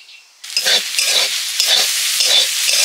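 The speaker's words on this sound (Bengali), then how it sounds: "শাক ভাজাটা প্রায় হয়ে গেছে" Shushni greens sizzle loudly in a hot pan, with repeated rhythmic stirring scrapes breaking up the steady crackle.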